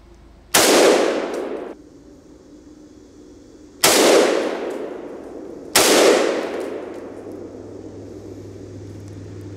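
Three loud, sharp shots from a Century Arms AK rifle ring out at an outdoor range, spaced a couple of seconds apart, each followed by a long echoing decay.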